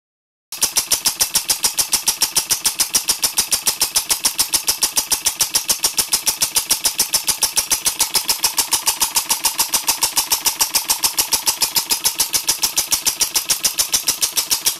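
Solenoid-valve steam engine driving a generator on roughly 100 psi, chuffing in a fast, steady, even exhaust beat that starts abruptly and runs on loud and close with no talk.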